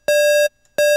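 Pure sine wave tone from a Massive synthesizer, steady and loud, sounding twice with a short silent gap between the notes.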